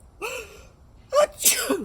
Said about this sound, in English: This is the truth, because I'm sneezing.